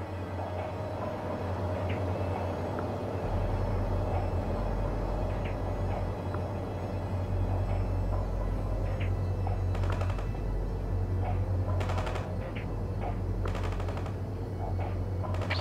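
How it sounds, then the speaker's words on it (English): An enemy vehicle in World in Conflict rumbles past an infantry squad on a battlefield, its low engine drone steady beneath repeated bursts of gunfire and sharp crackling shots. "Let's see what happens when this enemy vehicle tries to speed past your infantry squad."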